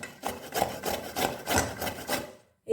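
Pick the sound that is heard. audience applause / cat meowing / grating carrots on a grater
grating carrots on a grater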